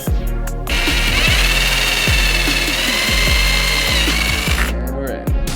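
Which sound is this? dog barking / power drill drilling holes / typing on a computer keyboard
power drill drilling holes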